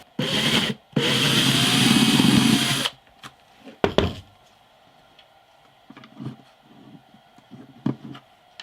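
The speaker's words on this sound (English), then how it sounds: "In order to use these, I'm going to have to make the holes a little bit bigger inside." On a vintage steel-string guitar, tuning peg holes are enlarged from 5mm to 5.5mm, starting with two loud, close bursts of power-tool grinding, then a sharp knock and quieter scattered scrapes and taps.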